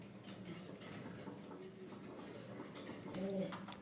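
An Indonesian Shoukin male pigeon and an Indigo female pigeon coo softly in a few short, low, throaty calls near the end, faint amid quiet background noise.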